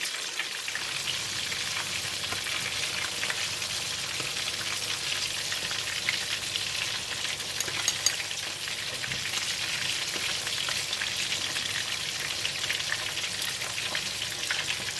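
Garlic frying in hot oil until browned alongside Gulama fish, giving a dense, continuous crackling sizzle that stays steady and close throughout, with no talking.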